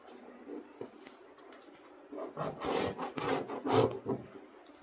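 Pen or marker dragged across paper while drafting a structured cape pattern, joining marked points on the chest line: soft, close rubbing strokes, sparse at first and then a denser run of several firm scratchy strokes.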